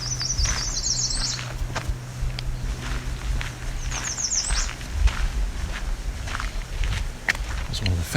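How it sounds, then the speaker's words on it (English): An American Redstart gives two bursts of its fast, high song outdoors at Alvar Bay, with footsteps and rustling in the foreground and a person talking quietly nearby. "It's one of the faster songs of the American Redstart."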